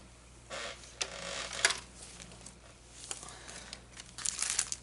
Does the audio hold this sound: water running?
no